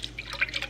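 Soy sauce poured into a bowl of sauce mixture with brown sugar, water and pineapple juice, heard as a quick run of small, close liquid drips and splashes.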